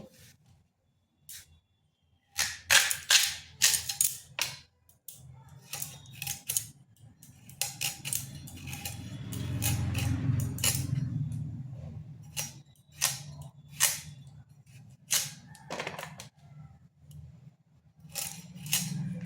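A sweet pumpkin being cut with a knife, giving a series of close, crisp chopping taps and scrapes with pauses between them, alone without talk.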